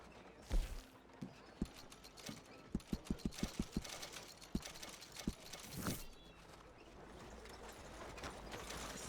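Horse hooves in Red Dead Redemption 2 clop at a steady walking rhythm, a run of distinct close hoofbeats with faint creaking tack, framed by a soft thump early on and a louder rustle near the end.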